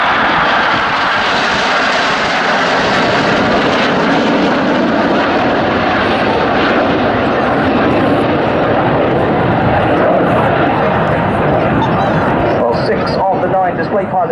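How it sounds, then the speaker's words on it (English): An RAF Tornado bomber jet flies past at an air show, a loud, continuous roaring engine rumble filling the scene throughout, with a public-address commentator talking over it. "Celebrating the Tornado Bomber Force, in from the right, this is"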